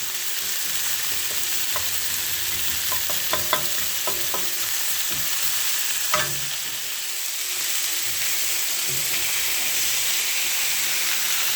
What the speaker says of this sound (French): je vais mettre dans une sauteuse pour les faire revenir un petit peu avec de l'huile d'olive et du sel et du poivre